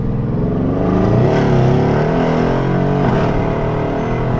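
A tuned 750 hp Mercedes E63 AMG pulling onto a motorway, its engine roaring loud and close in a steady, sustained surge of acceleration with no talking.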